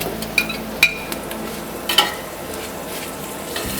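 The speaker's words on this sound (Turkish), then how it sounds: "Soğanlarımız hafiften diriliğini kaybettikten sonra havuçlarımızı ilave ediyoruz" Carrots and onions sauté in a pan, a close steady sizzle broken by several sharp spatula scrapes and taps.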